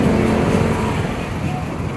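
Road traffic on a street in Cavite, Philippines, a close steady rumble of vehicle engines and tyre noise with a low idling hum throughout, no distinct passes standing out.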